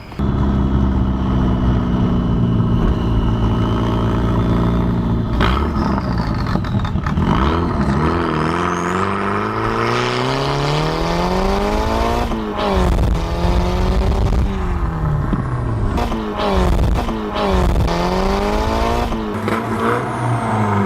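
A Mazda Miata fitted with a cheap DIY turbo kit revs hard and accelerates, its loud engine note climbing and dropping repeatedly through several gear-like pulls over about twenty seconds, with no talking.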